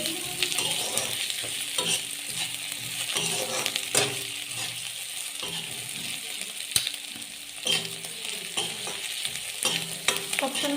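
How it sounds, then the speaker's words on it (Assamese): Ginger garlic paste sizzles in hot oil in a pan for a pork dish while being stirred, a steady crackling fry with scattered metal scrapes and clinks from the spatula, close and moderately loud. "ভালদৰে লৰাই লৈছোঁ।"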